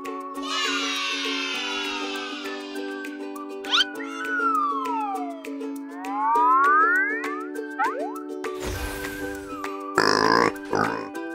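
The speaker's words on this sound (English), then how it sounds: "Pig." A pig grunts and oinks in a few short, rough bursts near the end, set against a bouncy cartoon music track with a steady beat and springy sound effects.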